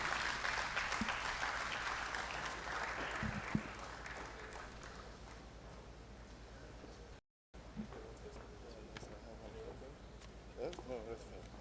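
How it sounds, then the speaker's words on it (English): An audience gives a warm round of applause for Benedict Oramah, president of the Africa Export-Import Bank, at a leadership symposium on intra-African trade; steady clapping fades after a few seconds and talk continues over quieter room sound. "Please give him a very warm round of applause."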